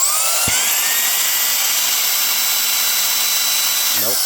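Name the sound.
Reikiya mini handheld cordless vacuum cleaner running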